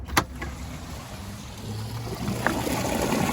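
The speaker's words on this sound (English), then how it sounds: "And this should be the last flush." The final rinse of an RV black water tank produces a steady rushing flow of water that grows slightly louder over a few seconds, with a couple of faint knocks early on and no speech.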